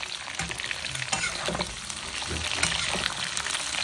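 Beef fries in a hot pan with a steady, close crackling sizzle, punctuated by scraping stir sounds throughout.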